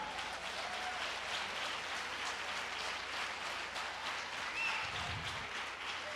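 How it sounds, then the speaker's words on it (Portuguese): A church congregation applauding, a steady wash of many hands clapping that holds at an even level throughout, with a brief low thump near the end and no clear talk. "Até um aplauso merece agora, né?"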